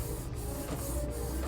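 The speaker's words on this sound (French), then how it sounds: "Un papier tout imprimé est en train de sortir de sa bouche." A printer feeds out a freshly printed sheet of paper with a steady, continuous mechanical whir and rumble that runs close and unbroken throughout, with no voices.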